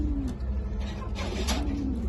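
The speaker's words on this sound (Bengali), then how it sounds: "আর এই হচ্ছে আমাদের কবুতরগুলো" Kagoji pigeons in a loft give low, throaty coos, one at the start and another near the end, soft and close against a faint background hum, with no talking.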